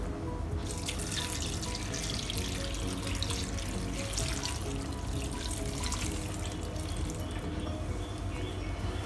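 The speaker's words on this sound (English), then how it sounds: "I'll add in 3 cups of water." Water runs continuously from a tap into a pot, a steady splashing gush that stays close and even for the whole stretch.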